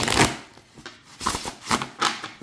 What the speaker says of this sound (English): I'm not actually looking at the cards as I shuffle them